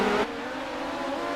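USAC midget race cars on a dirt track at Williams Grove in iRacing, a loud steady engine drone with a shift in pitch early on, the cars running hard down the backstretch.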